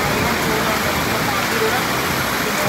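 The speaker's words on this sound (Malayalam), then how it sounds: "ഇവിടെ നല്ല മഴ പെയ്തുകൊണ്ടിരിക്കുകയാണ്" Heavy rain pours down outdoors during a thunderstorm, a dense, steady hiss of falling water filling the whole moment without letup.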